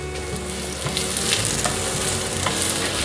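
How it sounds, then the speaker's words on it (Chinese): Carrots and enoki mushrooms are stir-fried in a wok for a vegan home-style dish, giving a loud, steady close sizzle with scraping tosses throughout. "继续翻炒"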